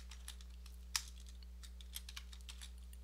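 A computer keyboard typing Python code, heard as a few sparse, soft key clicks with one sharper tap, close by, over a steady electrical hum and no talk.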